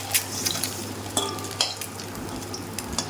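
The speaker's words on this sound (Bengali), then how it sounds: "আস্তে আস্তে করে ডিমগুলো ভাজলাম" Eggs frying in hot oil in a wok, a soft steady sizzle with scattered clinks and scraping taps as they are gently stirred, fairly quiet and close, no voices.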